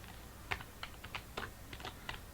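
C code typed on a computer keyboard, a quick irregular run of crisp close key clicks with no voices.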